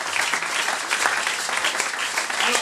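A church congregation claps in a dense, steady round of applause that fills the space, many hands at once, sustained from start to finish.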